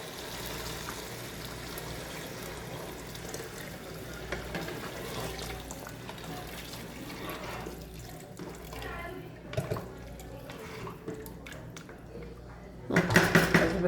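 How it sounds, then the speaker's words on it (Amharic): Water pours into a cooking pot holding salsa, chicken and tomato for an Arab-style rice bukhari dish, a steady running splash that carries on throughout, with a brief louder clatter near the end. "በኋላ ሳልሳ ጨምረን ውሃ እንከልሳለን።"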